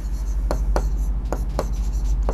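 A pen or pencil writing on a sheet of paper during a math lesson, giving a series of short scratchy strokes in an irregular rhythm over a low steady hum, close and moderately loud.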